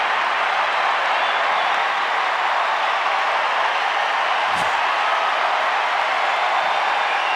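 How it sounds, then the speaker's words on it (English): Tennis crowd at a US Open match cheering and applauding, a dense, steady wash of clapping from a big stadium audience that holds level throughout, with one brief thump partway through. "Crowd has had so little to cheer about, but here they go."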